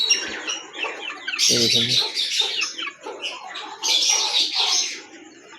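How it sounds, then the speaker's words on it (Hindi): Small chicks wandering in a coop give high, quick cheeping bursts at close range, with someone speaking briefly underneath. "बाकी है छोटे चूज़े घूम रहे हैं ये वाले"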